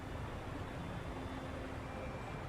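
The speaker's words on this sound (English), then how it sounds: "That's a big waterfall." A big waterfall in the Fontaine region of a video game, heard as a steady, dense broadband rush of falling water that holds the same level throughout without a break.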